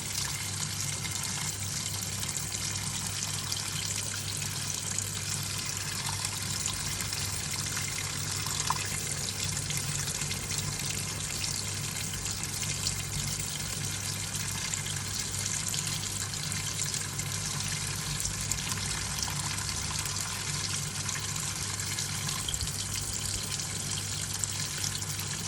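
A Hoover 1400 washing machine tops up its drum with cool water, a steady rushing trickle with a low mains hum running unchanged and fairly loud throughout, with no voices.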